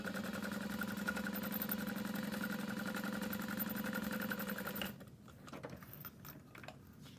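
A home sewing machine stitches a petite tote bag with a steady, fast mechanical hum and rhythmic needle clatter for about five seconds, then stops, leaving faint clicks and handling noises.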